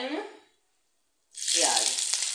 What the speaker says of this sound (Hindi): उसमें डालेंगे फोरन के लिए जीरा, तेजपात और मिर्ची